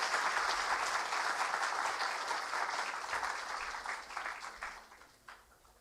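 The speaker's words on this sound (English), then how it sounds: "I just want to give a round of applause for everyone before he joins us on stage." An audience at a Nobel laureate's scientific lecture claps in a dense, even round of applause that holds steady, then thins and tapers off toward the end.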